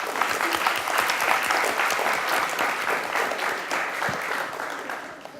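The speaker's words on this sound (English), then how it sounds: "So I would like if you would all just sort of give each other a round of applause" Guests at a university welcome reception clap for one another, a loud sustained round of applause that gradually thins and fades toward the end, with faint crowd murmur underneath.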